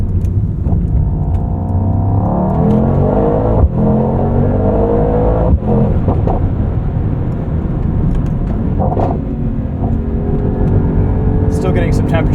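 Interior view of a 2024 Mercedes-AMG GT63 coupe accelerating hard, its engine note rising and dropping through quick 9-speed gear changes in a continuous loud drone, with someone talking over it.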